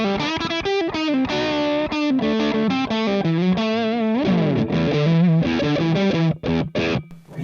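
Electric guitar played through a Joyo Jackman distortion pedal, a thick, bright overdriven tone with sustained chords and melodic runs, loud and continuous throughout.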